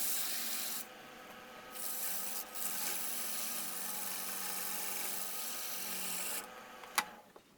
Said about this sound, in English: I got some 150 grit sandpaper.